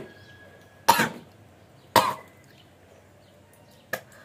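A person coughs during kunjal kriya yoga, the water-cleansing practice, giving three sharp, separate coughs about a second apart with a quieter third one after a pause, close and clear against a faint background.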